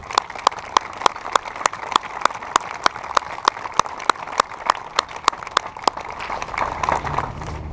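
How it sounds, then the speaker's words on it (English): Audience clapping at a graduation ceremony, with one sharp, evenly paced clapper standing out close by over a softer crowd. "So please join me in applauding the FMTB staff for making a difference."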